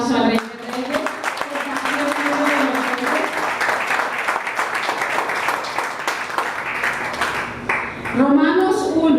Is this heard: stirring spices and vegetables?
no